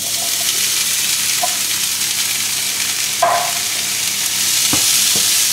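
Corn kernels tumble into a hot pan where chicken, browned chorizo and onions are frying, giving a steady sizzle with a few sharp clatters and stirring scrapes; no voices.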